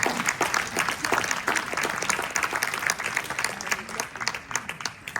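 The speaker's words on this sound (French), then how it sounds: "Je crois qu'on peut l'applaudir." An audience at a book fair of Jewish worlds claps warmly to welcome rabbi Chaim Corsia, a lively, uneven patter of many hands that stays strong throughout and tapers slightly at the close.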